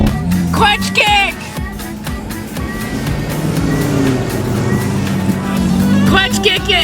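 A car engine revs hard and surges nearby during a clutch kick while people shout and talk excitedly over it.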